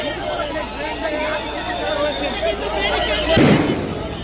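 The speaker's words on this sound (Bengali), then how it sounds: "আবারও সাউন্ড গ্রেনেড" A sound grenade goes off at a street protest by a police barricade: one sharp, loud blast cuts through a steady crowd hubbub and chatter, then the crowd noise carries on.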